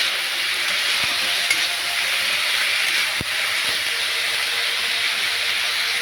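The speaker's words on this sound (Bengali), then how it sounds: "ভালো করে প্রথমে পটল আলুটা নেড়ে নিচ্ছি" Pointed gourd and potato pieces fry in a pan for a vegetarian chorchori, giving a loud, constant sizzle and hiss, with occasional sharp clicks as the spatula stirs them.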